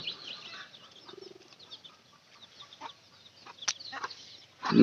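Chickens cluck softly nearby in a quiet yard, a few scattered short calls and murmurs spread across the moment, faint at first and growing louder toward the end.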